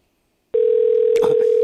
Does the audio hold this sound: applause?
no